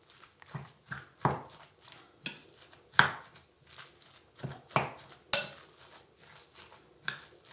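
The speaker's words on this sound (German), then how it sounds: "Ich mische das jetzt alles schön" Carrot, onion and herbs are mixed in a bowl, producing scattered clinks and scraping knocks of a utensil against the dish at an irregular pace, close and fairly quiet.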